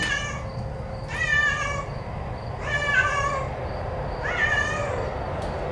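A cat meows three times at a steady pace, each call clear and close, over a faint background hum.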